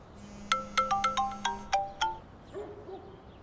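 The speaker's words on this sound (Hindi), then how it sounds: "अम्मी का फोन है।" A phone ringtone plays alone, a bright electronic melody of about eight sharp, evenly spaced notes over a low held tone, then fading into quieter trailing notes.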